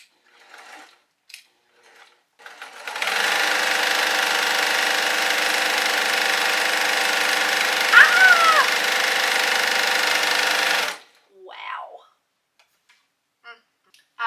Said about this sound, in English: I'll do pedal to the floor on this one.